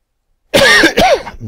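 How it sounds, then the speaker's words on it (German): A single short, loud cough bursts out close to the microphone after a moment of silence, with a second rough catch right behind it. "Entschuldigung fürs Husten."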